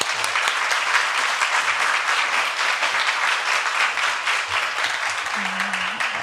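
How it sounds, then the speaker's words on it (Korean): At a Wednesday women's church service, the congregation gives a big round of applause to welcome a guest speaker coming forward, steady and full clapping from many hands, loud and unbroken throughout, with no one talking over it. "우리 나오실 때 큰 박수로 환영하겠습니다"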